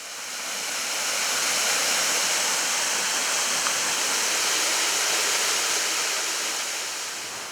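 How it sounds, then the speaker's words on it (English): Series of waterfalls at Mawsiang Mlong rushing down a massive granite rock surface into small river pools, a loud, steady roar of water fading in and out gently, with no voices. "Mawsiang Mlong is actually a series of waterfalls that rush down the massive granite rock surface, forming small river pools at regular intervals."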